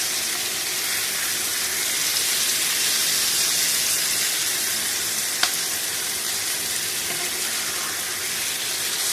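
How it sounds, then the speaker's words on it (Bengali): Small fish sizzling steadily in hot oil in a pan while being stirred for a Bengali small-fish chorchori, a constant close frying hiss with one brief sharp clink partway through. "মাছটা দিয়ে হালকা করে নাড়তে হবে।"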